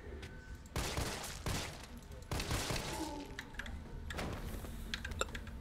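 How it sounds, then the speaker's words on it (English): Pistol gunfire in Resident Evil 3 Remake, inside the Umbrella bunker: several loud, sharp shots ring out at uneven intervals, each with a crackling tail, among clattering in-game effects and no speech. "I love this little pistol, it's quite a beast."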